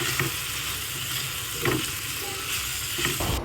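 Ground coriander, garam masala or chicken masala powder being stirred in a sizzling pan for a Kerala-style varutharacha chicken curry; a steady close hiss of frying runs throughout, punctuated by a few soft scraping strokes of the spoon.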